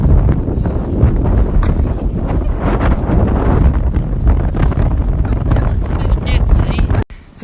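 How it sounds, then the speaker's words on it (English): Strong wind at the seaside in Reykjavik, Iceland, buffets the microphone in loud, continuous roaring gusts for several seconds before cutting off abruptly near the end. "To show you how windy it is."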